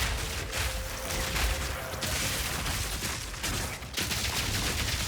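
Grenades thrown by a Tactician in the video game Path of Exile 2 go off as a dense, continuous barrage of crackling blasts and booms, loud and sustained across the whole stretch with a brief dip near the end.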